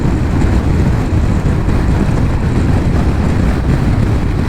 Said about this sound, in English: it is quite windy outside, so my head is getting sort of buffed from side to side